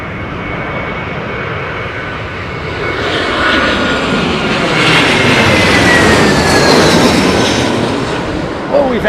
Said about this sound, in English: 787-8 Dreamliner from Delhi, possibly the last.